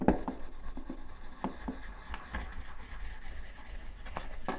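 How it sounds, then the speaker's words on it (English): Close, dry rubbing and scratching as one surface is worked against a small portable knife strop, short strokes in an uneven rhythm with occasional sharper scrapes. "I'm going to take another surface and rub it against that surface."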